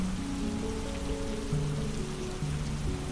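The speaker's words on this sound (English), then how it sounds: "the thunder and rain will linger a little longer, keeping you company in the quiet of the night" Steady rain falls as a dense, even hiss that holds close and loud throughout, with soft low sustained musical tones drifting underneath.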